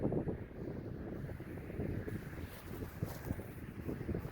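Wind gusting outdoors on a disc golf course, a low rumbling buffet across the microphone that rises and falls throughout.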